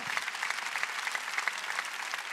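A church congregation breaks into sustained applause, many hands clapping densely and evenly throughout, with no talk over it.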